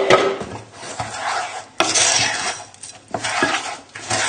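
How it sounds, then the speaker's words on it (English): A spoon stirs crushed biscuit into melted butter in a bowl for a lemon cheesecake base, making continuous close scraping and gritty rubbing with occasional clinks against the bowl and no talk. "And then we just need to add in the biscuit. So just tip it in and give it a good stir together."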